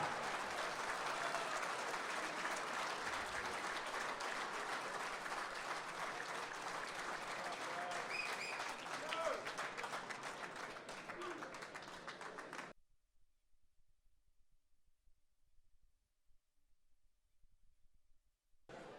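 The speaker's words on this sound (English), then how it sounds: "How about one more big round of applause for the newest Tar Heels" A crowd at a college football signing day celebration gives a big round of applause for eight new January enrollees, dense clapping sustained for about thirteen seconds before cutting off to near silence.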